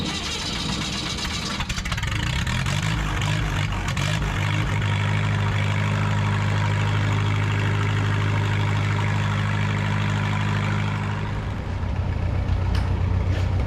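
A mini excavator's small engine, just started on choke, runs loud and close with a steady idling rumble that shifts in tone near the end as the choke is pushed in.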